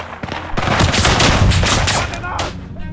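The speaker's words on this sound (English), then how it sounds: "I just tried to have a fight with an SMG with a single shot rifle." Rapid gunfire from an SMG trading with single shots from a bolt-action rifle in the WWI shooter Isonzo, loud close bursts and cracks in quick succession filling most of the three seconds.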